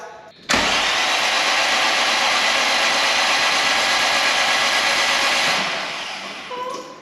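A 20v turbo engine in a Mk1 Caddy cranks over with spark plugs and coil packs removed, a loud steady whirring starter spin that begins abruptly, holds for about five seconds, then winds down.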